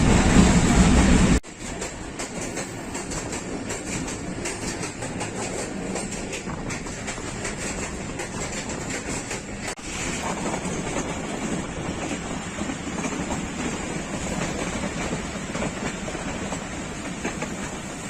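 Millat Express passenger train of Pakistan Railways running steadily, a continuous loud rumble of wheels on rails with rhythmic clickety-clack, after a brief louder opening burst; no voices.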